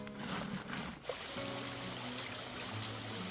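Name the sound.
water trickling out between rocks at spring source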